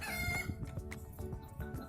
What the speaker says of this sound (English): Okay, chicken, shut up